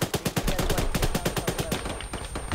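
Rapid automatic gunfire in a first-person shooter video game, a fast, loud, evenly spaced burst of shots that runs almost continuously for a couple of seconds.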